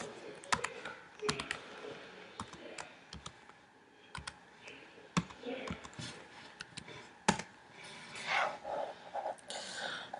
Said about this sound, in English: So, let me put in my password.